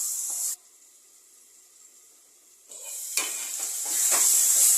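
Eggplant sautéing in a pan for a spicy Tamil eggplant curry, a steady sizzle broken by a quieter stretch, then louder stirring and scraping toward the end.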